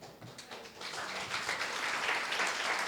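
Sustained audience applause at a Spanish-language poetry reading, a dense, steady wash of many hands clapping that builds slightly and holds at a moderate level with no talking.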